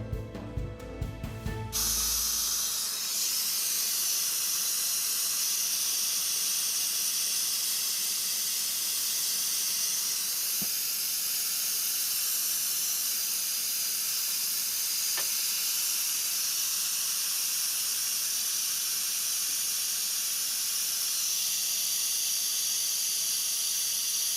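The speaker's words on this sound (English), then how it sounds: "we're going to draw a vacuum" Steady, even hiss of a vacuum brake bleeder drawing brake fluid from a car's brake line, continuous for the whole stretch after a brief burst of mechanical noise at the start.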